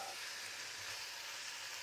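Onion, bacon lardons and beef paupiettes simmering gently in a pan, a steady, even sizzle with a soft crackle that runs unbroken and alone, with no voices.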